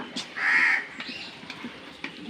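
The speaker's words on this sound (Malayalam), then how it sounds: "കാക്ക" A single harsh caw from a crow, close and clear, followed by faint background clicks and a quieter call.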